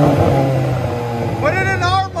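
A straight-piped VW Golf R turbo exhaust drones loudly up close, its pitch climbing as the engine revs near the end, while people talk over it.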